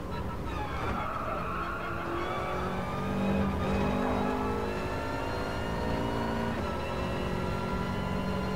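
A 4x4 car engine revs in the racing game Gran Turismo Sport, its loud droning tone rising and falling steadily as the car accelerates, heard alone without talk.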